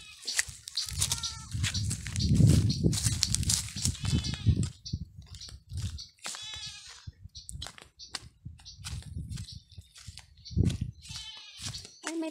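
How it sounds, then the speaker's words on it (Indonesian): A goat in the Pangasinan countryside bleats repeatedly in loud, close, wavering calls with short pauses between them, while a person talks nearby. "Oh, kainin mo, kambing."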